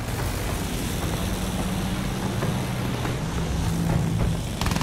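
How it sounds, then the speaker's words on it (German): An enemy aircraft drones overhead in the Battlefield 1 video game, a steady low propeller-engine hum that holds at a constant level through the whole stretch amid faint battlefield noise. "Feindliches Flugzeug gesichtet."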